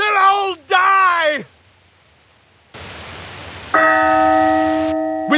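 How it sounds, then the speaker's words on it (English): A church bell tolls in the Dark Tales video game, ringing in as one loud, sustained metallic strike over a rain-like hiss. Dramatic voiced lines come before it, and a speaking voice starts again at the very end. "The bells toll a portent of fire!"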